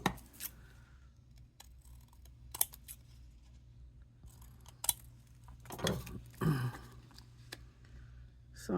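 Scissors cut paper pieces for a planner in a quiet room, with scattered short snips and crisp rustles, and a denser cluster of cutting and paper handling near the end.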